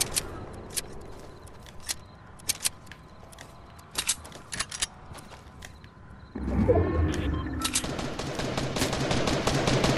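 Gunfire in the video game Fortnite, sharp scattered shots early on, then a louder sustained burst of rapid fire with rumbling action sound, no talking.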